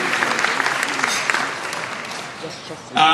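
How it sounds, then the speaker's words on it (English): Crowd applause for the silver sponsors at a childcare providers' trade show and gala dinner, a dense steady wash of many hands that thins slightly before a brief louder burst at the very end. "Give them all a big round of applause as well for being silver sponsors"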